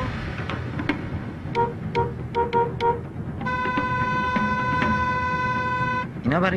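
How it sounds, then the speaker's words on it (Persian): Car horns honking in city traffic: a series of short toots in quick bursts, then one long sustained blare lasting a few seconds, loud and close over street noise. "برای کی بوق میزنن؟"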